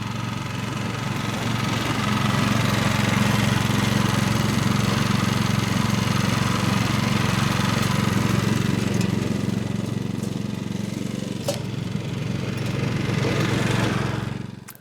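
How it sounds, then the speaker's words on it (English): A Cobra Fortis dethatcher runs over a lawn with a steady, loud mid-pitched engine drone and rhythmic whirring of the tines, fading out at the end. "I've made several passes up and down the lawn with the Dethatcher"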